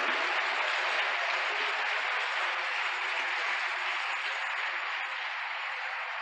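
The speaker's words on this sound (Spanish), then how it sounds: "Un aplauso al Señor, vamos a tomar aire." A church congregation claps for the Lord in a steady, even burst of applause with no voices over it.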